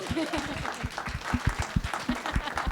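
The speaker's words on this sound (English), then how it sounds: "Can we give a round of applause," Conference audience gives a round of applause, close and fairly steady clapping with some voices mixed through it.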